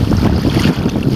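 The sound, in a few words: ocean wave washing in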